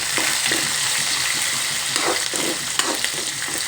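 Green chillies fry in hot oil for upma, a loud, dense sizzle with stirring scrapes throughout, close and steady with no talking.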